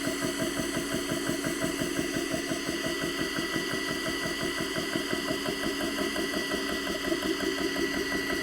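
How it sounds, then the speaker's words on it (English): A JTS air compressor runs steadily, its pump chugging in a fast, even rhythm under the constant hum of cooling fans. "That's the compressor actually rotating in there, actually chugging along, and the cooling fans are designed to keep that cool."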